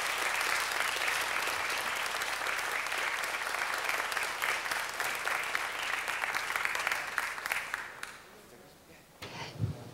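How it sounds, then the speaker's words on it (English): An audience applauds steadily for about eight seconds at a city council meeting, the clapping thinning out and fading before a brief noise at the end. "Please give them one more round of applause"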